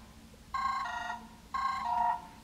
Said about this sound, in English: and it rings my phone.